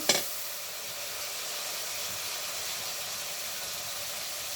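Lotka shutki dried fish sautéing in oil in a pan makes a steady close sizzle with a brief clatter at the start, continuing evenly without any voices.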